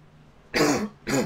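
Two harsh coughs in close succession from someone commentating a live race, loud and near the microphone, with a short pause between them and no other sound.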